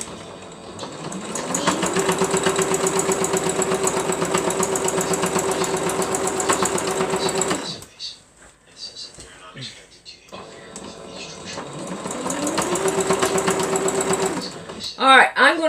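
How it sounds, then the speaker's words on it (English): Sewing machine stitching a quilt, a fast steady whirring chatter that winds up, runs for several seconds, pauses amid quiet handling noises, then starts again. "I'm going to continue on to sew this all the way around until we get to the other side"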